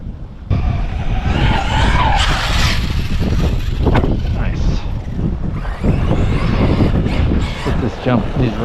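Arrma Kraton RC car at an outdoor RC event in Enfield, CT, driving hard with a loud high motor whine and sustained tire skidding, plus wind noise on the microphone for several seconds.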